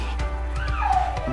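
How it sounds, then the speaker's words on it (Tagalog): A chow-chow dog whines and yips in high, wavering cries inside a house, with a rising whimper near the end, mixed with background voices and room noise. "Oh, sumisigaw na yung chow-chow namin."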